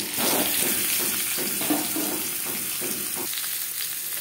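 Boiled potatoes hit hot oil in a wok, giving a steady, close sizzle and crackle with soft stirring scrapes throughout, fading slightly near the end.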